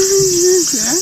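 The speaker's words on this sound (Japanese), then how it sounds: "セミが。" Cicadas buzz loudly and continuously at a forest campsite, and a single voice or whine briefly slides in pitch underneath.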